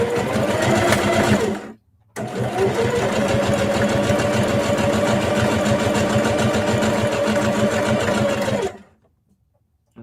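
A home sewing machine with a buttonhole presser foot runs in a steady, rapid whir of stitching, stopping briefly near the start and again near the end, close and loud with no talk.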